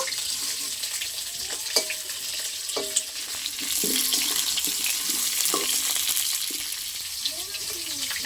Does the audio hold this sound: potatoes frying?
yes